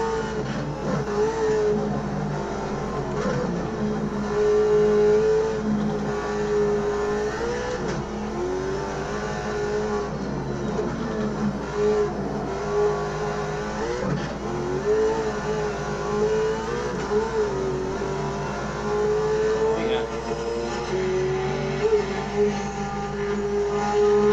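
A race car engine in the Automobilista 2 sim racing game revs loudly and continuously, rising and falling through gear changes as the car accelerates and brakes, with no talking.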